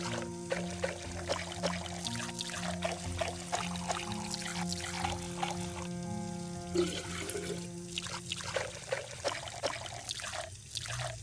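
Water pours and trickles continuously in a video game while background game music plays throughout, filling a container to submerge an object.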